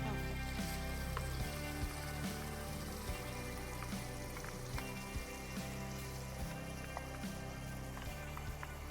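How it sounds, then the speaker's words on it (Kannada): Masala fries in hot oil in a pan for mushroom biryani, giving a steady, dense sizzle with scattered pops and crackles that carries on alone throughout. "ಇವಾಗ ಈ ಮಸಾಲೆನ ಇದರಲ್ಲಿ ಹಾಕಿ ಫ್ರೈ ಮಾಡ್ಕೊಂಬೋದು"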